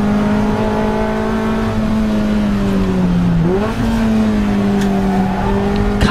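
A 2012 Toyota MR2 Championship race car laps Donington Park, its engine droning loudly and steadily on board, pitch dipping under a gear change then climbing again as it accelerates.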